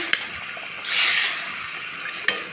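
Green fava beans stirred in a pot with tomato, garlic and onion sauce: a brief scraping swish of the spoon through the food, framed by two sharp clicks of the utensil against the pot.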